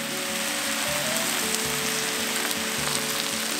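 Onions and garlic fry in a hot pan for Korean stir-fried fish cakes, giving a steady, dense sizzle and crackle that runs without a break. Faint kitchen tones hum underneath.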